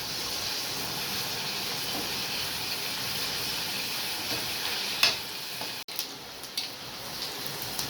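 Thin potato chips fry in hot oil for a homemade snack, giving a steady, bright crackling sizzle with no talk, plus a few sharper pops and ticks near the end.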